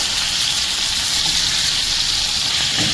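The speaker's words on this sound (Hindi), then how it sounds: "1 मिनट तक हम इसको फ्राई करते हैं थोड़ा" Tawa chicken masala fries on a flat tawa griddle, giving a loud, steady, close sizzle with a constant hiss and no voices.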